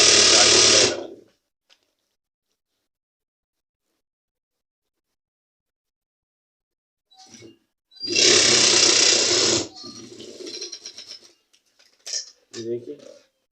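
A sewing machine runs in two loud bursts while stitching a sherwani groom's garment, with a short clatter between and brief handling noises after.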